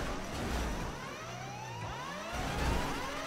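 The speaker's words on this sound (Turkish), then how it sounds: "Bu şey alarm sesi gibi bir şey var ya. Siren sesi." A siren in the GTA video game wails in faint, sweeping rising and falling tones over a low engine-like rumble, sounding fairly distant.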